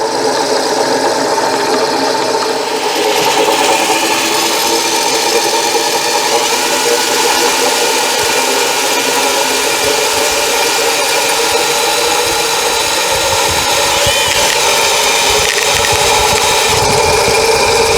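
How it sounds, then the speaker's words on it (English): A 1918 Jas. Clark Jr. friction-drive drill press's electric motor runs steadily on a temporary connection, giving a loud continuous whir with a rising mechanical hum that holds for the whole stretch, no voices over it. "I got a temporary connection on this motor. Hopefully it stays put. See what it does."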